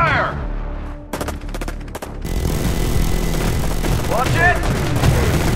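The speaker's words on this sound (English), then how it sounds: "Open fire!" Gunfire in the Empires & Allies video game: sharp bursts of rapid shots early on, then a dense, continuous roar of battle noise with shouted voices over it.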